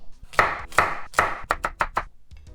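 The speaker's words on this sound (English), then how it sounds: "I like to add carrots because it adds color to the dish. And this is why I like to cut them in diagonal" A kitchen knife slices carrots diagonally on a cutting board with seven crisp close chops, the first three slow and evenly spaced and the rest quicker, with no talk.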